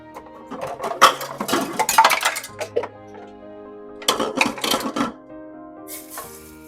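A pan being handled to pour off sausage grease, with metallic clinks and scrapes of cookware coming in two clustered bursts over a steady kitchen hum.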